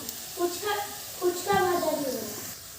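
Masala tipped into onions already fried red-brown in a pan, sizzling and hissing in short bursts over about three seconds, with someone talking over the cooking.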